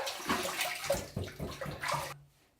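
Water splashes and runs in uneven bursts while soap is rinsed off, close and fairly quiet, stopping abruptly near the end.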